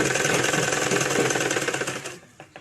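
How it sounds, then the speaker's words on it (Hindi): A sewing machine stitches along a folded drawstring casing, running with a fast steady mechanical chatter up close, then slowing and stopping near the end, leaving a few separate clunks of the needle and mechanism. "इसे फोल्ड करते हुए नाड़े की सिलाई करनी है।"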